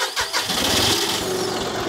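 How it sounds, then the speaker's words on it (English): A tractor engine cranks and catches, then settles into a loud, steady running rumble close by. "you think I could drive the tractor?"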